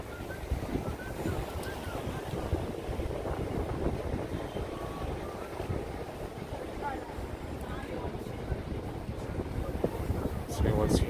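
Steady wind gusting on a New York City street on a cool 50-degree Friday night, a constant broad rush with low buffeting, as if battering the microphone, running the whole time with faint street activity beneath.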